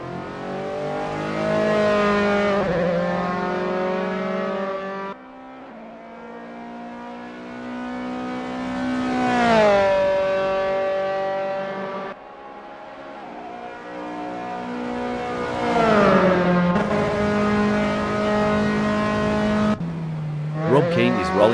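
Race car engine on an out lap in Assetto Corsa, a Dallara formula car: a loud, close, tonal engine note repeatedly revving up through the gears, dropping on shifts and easing off into corners, with no talk.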